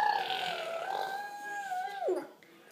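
A young child gives a drawn-out, trumpeting elephant imitation, a single wavering vocal call that holds steady then slides downward at the end, close and clear.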